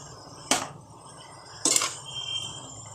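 Cut brinjal pieces, soaked in salt water, are stirred into a pan for a brinjal fry, giving two distinct metallic clinks of a utensil against the pan about a second apart, with a soft scraping hiss in between.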